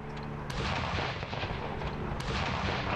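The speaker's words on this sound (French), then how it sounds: "les coups de canon se faisaient l'écho d'un hommage des forces canadiennes à leur commandante en chef" Canadian forces firing a ceremonial cannon salute for a departing governor general, heavy booming blasts rolling and echoing outdoors, loud and layered one over another with no talking.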